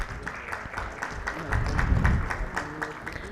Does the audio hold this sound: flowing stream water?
no